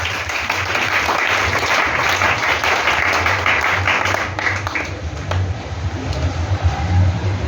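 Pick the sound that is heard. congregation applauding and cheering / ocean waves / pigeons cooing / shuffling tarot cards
congregation applauding and cheering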